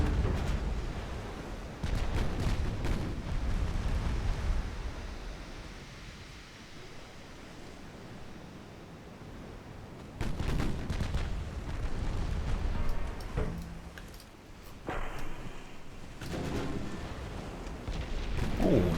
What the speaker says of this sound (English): 6-inch guns really are doing a good job here.